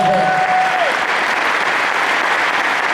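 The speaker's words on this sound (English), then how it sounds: "Let's give them all a round of applause" Audience at a Laurens County Touchdown Club football awards banquet applauds its all-county players and award winners, a steady, dense wash of clapping that holds at full strength throughout.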